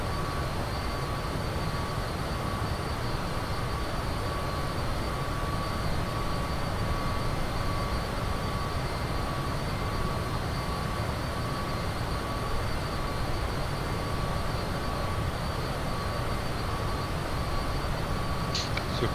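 BK-117 helicopter engine in the X-Plane flight simulator, a dense, steady turbine roar with a constant whine, unbroken and loud throughout with no talk.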